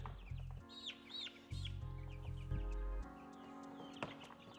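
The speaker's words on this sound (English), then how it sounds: "Chicken ASMR." Backyard chickens cluck and squawk close by in a coop, making repeated short calls over a low, steady hum and occasional rustling.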